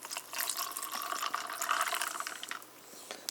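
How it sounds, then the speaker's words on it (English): Water pours into a mug holding French vanilla cappuccino mix, a close splashing, gurgling stream that runs steadily and then tapers off, heard alone. "pour in the water"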